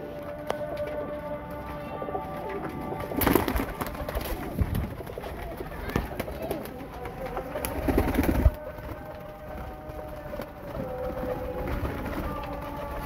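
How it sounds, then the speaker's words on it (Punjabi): Highflyer pigeons kept for sale in Faisalabad coo repeatedly nearby, with low rolling calls amid rustling, wing flutters and occasional louder bursts of activity. "ਸਾਫ਼ ਸੁਥਰੇ ਅੱਛੇ ਕਬੂਤਰ ਨੇ ਜੇਠ ਵਾਸਤੇ"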